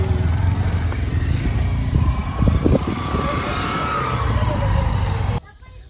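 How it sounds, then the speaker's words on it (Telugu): Road traffic in a long jam on a crowded route to a hill-temple festival in the Nallamala Hills, with a continuous rumble of idling and creeping engines close by and a voice briefly talking over it before an abrupt cutoff. "ఇలాగే ట్రాఫిక్ జామ్ అయిపోయింది."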